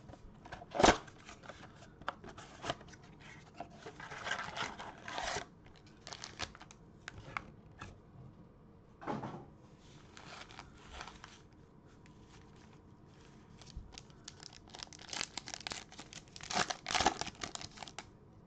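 A blaster box of football trading cards being opened by hand: close, quiet crinkling of wrapper plastic and foil, brief tearing and card shuffling in scattered bursts, without speech.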